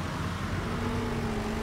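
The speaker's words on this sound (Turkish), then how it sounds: "Kamyon. Aa, oha. Lan ne güzel sesleri yapmışlar." In the Construction Simulator video game, a truck engine runs at a steady idle, a continuous low droning rumble with even mechanical hum, close and alone without talking.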